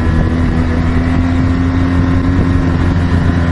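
A 2016 BMW R 1200 GS Adventure motorcycle engine pulls hard under throttle on a demo ride at Laguna Seca, Monterey, a steady loud drone with strong low harmonics and wind rush throughout, no talking.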